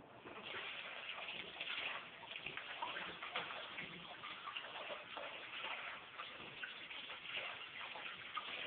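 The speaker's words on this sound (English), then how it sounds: "So I'm gonna rinse this with water real quick," Tap water runs steadily over brass Zippo lighter parts during a rinse, a continuous close splashing hiss with small ticking drips throughout.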